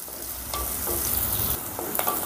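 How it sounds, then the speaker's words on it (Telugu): Chopped onions and green chillies sizzle in a hot pan with oil, a steady close crackle broken by a few scrapes of a spatula and no voices. "ఇప్పుడు ఈ ఉల్లిపాయ ముక్కల్ని మరీ ఫ్రై కాకుండా ఒక 2 నిమిషాలు ఆ పచ్చి వాసన పోయేంత వరకు"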